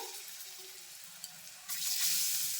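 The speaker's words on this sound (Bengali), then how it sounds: "আবার ডালটা ভেজে নিচ্ছি" Dal frying in oil for ladoo, a steady close sizzle that swells abruptly louder partway through, with a brief click; no speech.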